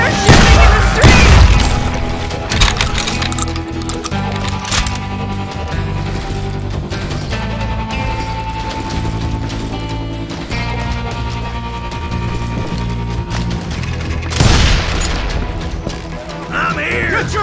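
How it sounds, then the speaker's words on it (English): Gunfire and booming blasts in a street shootout in the Call of Juarez video game, with heavy hits near the start and again near the end over steady game music. "They're shooting in the street!"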